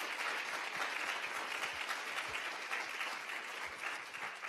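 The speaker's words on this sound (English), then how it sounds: "Let's give another round of applause for these," A large audience applauds after an evening panel conversation, a full, sustained wash of clapping at a steady level throughout.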